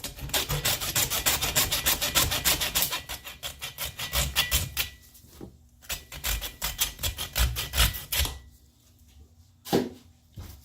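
A hacksaw cuts through a turkey leg in steady rapid back-and-forth rasping strokes, loud and close, pausing briefly then resuming in shorter bursts near the end.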